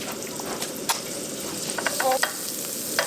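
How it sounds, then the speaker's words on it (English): Bread toasting in a pan of melted garlic and chive butter, a soft steady sizzle running throughout with a few faint scrapes and taps of a utensil, close and fairly quiet. "So we're going to toast some bread on this."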